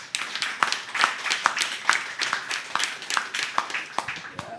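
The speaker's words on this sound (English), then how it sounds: "Please, a round of applause." Sparse, uneven clapping from a small audience at a blockchain panel event in Bali, a handful of distinct hand claps ringing out rhythmically without building into full applause.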